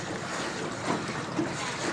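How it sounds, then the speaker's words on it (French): Boat ride on the Tam Coc river in Vietnam, a steady wash of water and wind noise against the microphone, continuous and fairly close, with no voices. "Là on fait une petite balade sur la rivière de Tam Coc"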